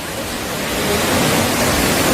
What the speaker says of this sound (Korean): 저기 용추 폭포인가?